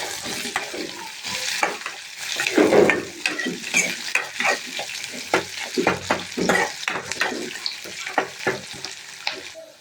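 Onion sizzles steadily in a hot pan for cabbage poriyal while a utensil stirs it with repeated scraping strokes, close and fairly loud.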